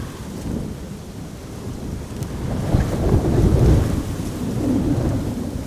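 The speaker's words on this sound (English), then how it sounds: "Wind noise isn't bad, more rain noises, yeah." A stormy crosswind day at Amsterdam Schiphol Airport brings steady rain hiss and buffeting wind rumble on an outdoor microphone. The low roar swells and eases throughout with no talk.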